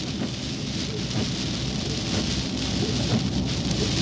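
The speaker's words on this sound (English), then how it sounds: "Tropical storm Harold has officially made landfall. Got about 35 mile an hour winds, a lot of rain coming in." Heavy rain from Tropical Storm Harold pours steadily at Baffin Bay in South Texas, a dense continuous hiss with low thunder rumbling underneath and gusty wind, no voices.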